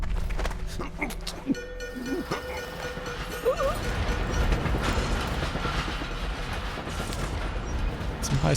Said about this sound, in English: Some high-speed trains here as well.